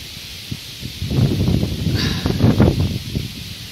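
Gusty wind buffets the microphone, with rustling bursts rising and falling over a steady hiss; no talking.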